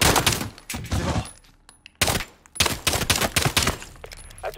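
Bursts of automatic gunfire from a squad firing in Modern Warfare, loud and close, with rapid overlapping volleys, a brief lull in the middle, then a renewed heavy barrage of shots.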